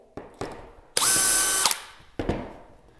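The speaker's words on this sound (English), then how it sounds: "Just drill the first hole." A cordless power drill bores the first hole through a shelf-pin jig in a single loud high-pitched burst of under a second. Sharp clicks and taps from handling the tool come before and after it.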